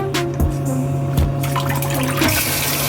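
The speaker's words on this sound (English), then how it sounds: "This is the recirc pump," Recirculation pump in a restored Bass Tracker boat's live well sprays a steady stream of water, a continuous close splashing rush with a constant low motor hum underneath and a few small knocks.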